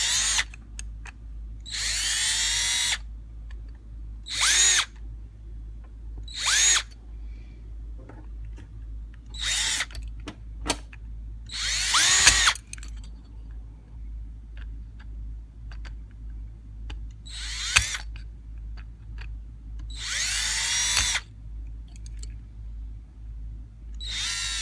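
A power drill whirs in several short bursts separated by pauses while working on a Stromberg 97 carburetor part, with small metallic clicks and taps between them over a steady low hum.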